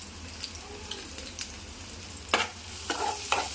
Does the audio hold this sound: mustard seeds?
yes